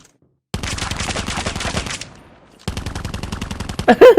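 Rapid automatic gunfire in Call of Duty, two loud sustained bursts fired into a wall separated by a short pause, sharp rattling shots at close range.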